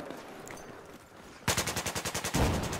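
Automatic gunfire in Battlefield 4 multiplayer, fired from an AK-12 with a suppressor: a loud, rapid burst of about a dozen evenly spaced shots that starts abruptly after a quieter stretch of game ambience.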